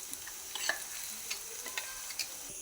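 Ground masala paste fries in a pan with turmeric for soya bean curry. A soft, steady sizzle runs underneath, with light scattered scraping and clinking from stirring, and no voices.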